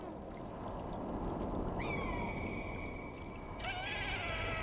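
A cat in the video game Stray lets out two drawn-out meows, the second rising sharply, over a continuous low ambient rumble of game background sound.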